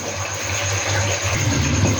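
Water poured steadily into a cooking pot of chana dal lentils and meat, a continuous close rushing, gurgling stream with a low rumble beneath, no voices.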